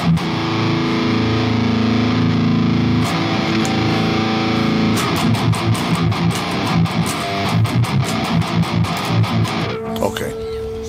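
Distorted electric guitar played through an Andy 51 Dark amp simulator from a metal guitar plugin pack, loud and continuous with sustained chords giving way to rapid palm-muted chugging riffs, ending in a brief pause.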